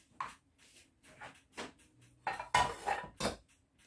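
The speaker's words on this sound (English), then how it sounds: "Frying pan." A few clanks and scrapes of a frying pan being handled while toasting walnuts, scattered irregular knocks close by, with quiet pauses between.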